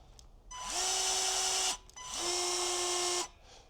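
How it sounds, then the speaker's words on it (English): A Ryobi 18V cordless bypass pruner runs two motorized cutting cycles. Each is a close, steady whirr lasting just over a second, with its pitch briefly rising as it starts, and a short pause between the two. "So cycle of the tool is not snap, snap, snap, snap, so it's a bit slower"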